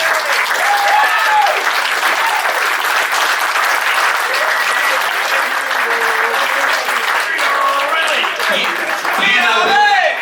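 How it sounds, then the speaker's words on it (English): Guests at a football club awards dinner give a loud, sustained round of applause, dense clapping running steadily throughout with cheers and voices mixed in. "can we give a big round of applause for all our supporters and sponsors?"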